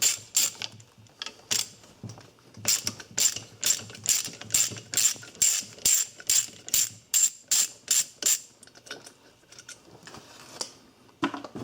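A ratchet wrench with a 1/4 inch socket backs out the terminal screws on a seized Century UST1102 pool pump motor, giving quick bursts of close, sharp clicking in an even rhythm that stop before a short pause.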